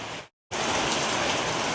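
Heavy rain pours steadily, a dense hiss that cuts out for a split second near the start before resuming at full strength.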